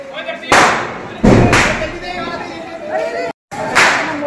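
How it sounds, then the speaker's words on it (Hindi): Big firecrackers burst during Diwali celebrations, several loud sharp bangs at irregular intervals, with people chattering and talking nearby between them. "मोटा बम फोड़ रहा है।"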